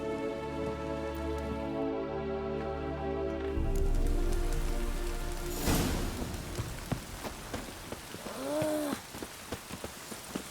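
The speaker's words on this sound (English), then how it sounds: "Rain again." Rain patters steadily in The Witcher 3: Wild Hunt, a continuous hiss of drops on surfaces that carries on after a swell of music fades, with scattered taps and a brief voice.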